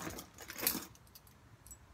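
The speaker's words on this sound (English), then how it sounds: "oh, there's a bunch of keys in here" A bunch of keys jangling among locks and other odds and ends in a storage unit, a short soft metallic rattle peaking briefly then trailing off into quiet clinks.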